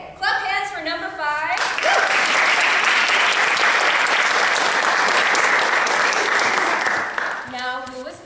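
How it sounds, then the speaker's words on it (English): Audience applause at a theatre performance of White Rabbit, Red Rabbit: loud, sustained clapping from the crowd for about six seconds, framed by a speaking voice before and after. "Okay, clap hands for number 5."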